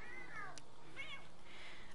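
Cat in The Sims 3 video game giving two short rising meows close by, followed by a softer trailing mew, against a quiet game background.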